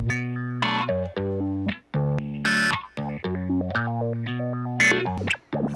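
A synth line played through the Filter Freak plugin's rhythmic Groove Sweep filter preset pulses in choppy, sweeping bursts, with tonal notes gated and swept in a bouncy rhythm, moderately loud and alone.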